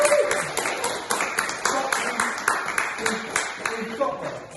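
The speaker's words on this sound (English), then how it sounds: "So I think Jason deserves his own round of applause" An audience applauds at a community fundraising talkathon event on mental health, with steady, moderately loud clapping that holds for several seconds and a voice faintly mixed in.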